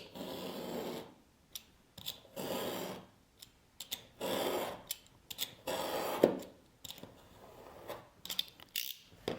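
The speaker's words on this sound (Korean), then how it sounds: "가장자리만 붙어 있는데 이 상태로 제가 이 칼로 한번 잘라 볼게요." A dull knife saws through glued layers of leather in repeated rough, rasping strokes, close and fairly quiet, with brief pauses between cuts.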